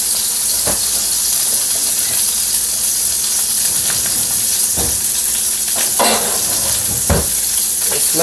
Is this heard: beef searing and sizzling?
yes